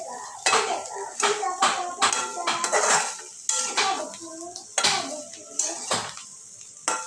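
A spoon clatters and scrapes against a pan as potato bhaji is stirred, with repeated close, sharp metallic knocks in an irregular rhythm and a faint sizzle underneath.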